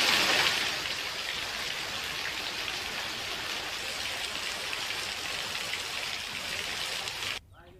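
Steady morning rain pours down in a continuous, even hiss of drops on surfaces, fairly close and unbroken for several seconds before it suddenly drops away.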